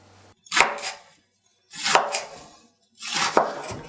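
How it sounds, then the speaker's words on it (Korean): A knife thinly slices an onion on a cutting board in three separate bursts of quick, crisp cuts with short pauses between them. The cutting is close and clear, with no voices. "양파는 얇게 채 썰어주세요."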